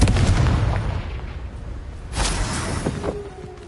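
A Confringo blast spell cast in Hogwarts Legacy bursts with a loud boom that tails off into a rumbling decay, then a second sharp explosive crack lands about two seconds later.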